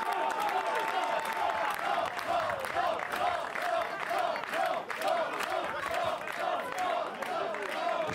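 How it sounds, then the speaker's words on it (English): Photographers at a Cannes 2021 photocall give sustained, dense applause, steady and fairly close, with a voice faintly audible underneath. "Lots of applause from the photographers."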